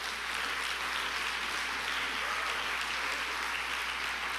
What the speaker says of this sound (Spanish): darle el aplauso a Dios si lo quieres dar